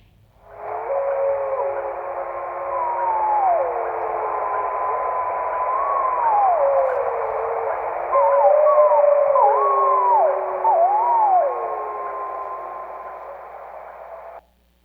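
Overlapping wolf howls, a pup's higher-pitched howl sliding from high to low alongside an adult's steadier lower howl, band-limited like a field recording, continuous for most of the clip.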